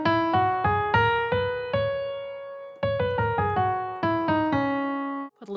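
A minor scale with a raised sixth, the Dorian mode, played as a short phrase of plucked electric guitar notes, some ringing with sustain and one held longer, quiet and unaccompanied.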